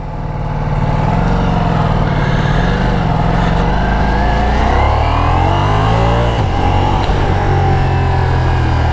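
A Ducati Diavel V4 motorcycle engine accelerating in congested traffic, a loud close rumble with rising and falling revs as it pulls through the gears, with no talk over it.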